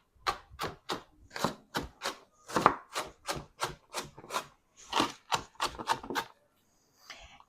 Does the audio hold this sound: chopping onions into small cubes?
yes